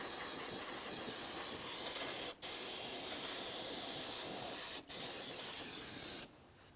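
Aerosol brake cleaner sprayed around the brake master cylinder and brake lines of a 2003-2008 Toyota Matrix, a loud continuous hiss in three long bursts separated by two brief pauses, ending abruptly.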